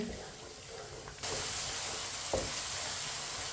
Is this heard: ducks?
no